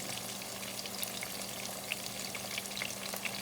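Garlic sautéing in a pan gives a soft, even sizzle and crackle with scattered tiny pops, close but quiet and uninterrupted by talk.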